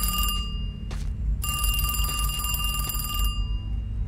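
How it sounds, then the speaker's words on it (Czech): A telephone rings in a SpongeBob video game, its bright electronic trills sounding in bursts over a steady low game background hum, with no talking. "pick up the phone."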